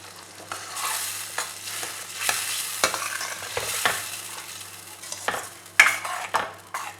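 A spoon scrapes and stirs dal fry with tomato, water and coriander in a pan, giving irregular clinks and soft scraping strokes over a low sizzle.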